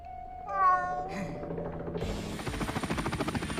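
A cartoon cat meows once, clear and nasal, before a rapid rhythmic mechanical whirring like a small rotor spins up and carries on to the end.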